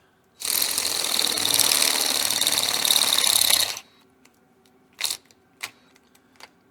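An electric drill bores out washers to half an inch for a 394 stroker engine build: one loud, steady grinding run of about three seconds, then several short, sharp metallic bursts nearby.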